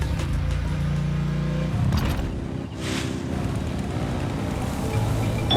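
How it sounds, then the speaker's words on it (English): Vehicle engines rev in Genshin Impact as a loud, continuous low rumble that shifts pitch partway through, mixed with windy noise. "Rev the engines!"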